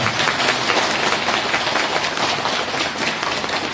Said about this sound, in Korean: 모두 정토보살 인가를 축하하는 우리와 같은 박수 부탁드립니다